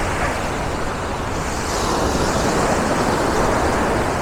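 Sea waves wash onto the beach at Barcelona, a loud, continuous roaring surf that swells slightly toward the end, with no voices.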